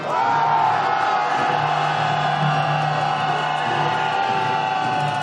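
A large crowd at a street protest march shouts a sustained chant calling for the president's impeachment, a loud, continuous roar of many voices from close by.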